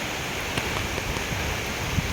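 Cyclone Dana brings steady wind-driven rain in Odisha, a continuous broadband hiss of heavy downpour at moderate loudness, with scattered drops tapping on surfaces and no voices.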